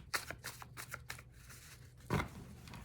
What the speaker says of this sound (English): I'm going to shuffle them, and then I'm going to take half, and I'll put half with the other pile.